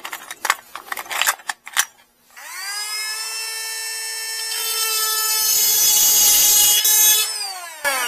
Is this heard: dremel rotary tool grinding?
yes